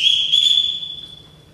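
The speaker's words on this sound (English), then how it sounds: "Everyone in this house answers to a whistle." A sharp human whistle call inside a house, a single strong sustained tone that starts loud and slowly fades over about a second and a half, heard alone with no talking.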